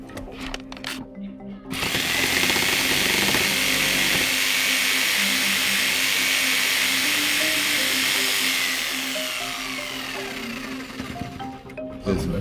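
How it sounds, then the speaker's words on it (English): A jigsaw cuts into a shop wall during work to free a trapped bird, a loud, steady buzzing saw run of about seven seconds that begins abruptly, then eases and stops, with rattling handling noise before and after. "Right, jigsaw next."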